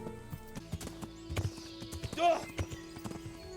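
A horse galloping in Kingdom Come: Deliverance gives rhythmic hoofbeats and a brief whinny, with someone talking over the hooves.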